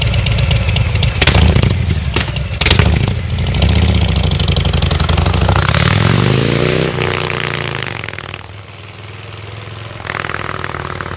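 A 2020 Harley-Davidson Fat Boy fitted with an S&S exhaust rumbles loudly nearby, rising as the throttle opens and then fading as the bike pulls away, with no voices over it.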